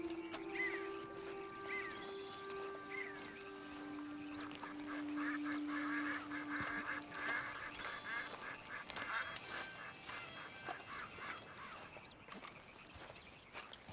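Duck or goose calls in the video game Red Dead Redemption 2 near a lake shore, repeated honks and quacks at moderate distance over soft ambient outdoor background.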